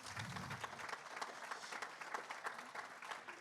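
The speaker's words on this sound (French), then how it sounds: "vous pouvez applaudir, évidemment." Applause from an audience at the close of a round-table debate on the ecological transition, steady distant-sounding clapping throughout, fairly faint.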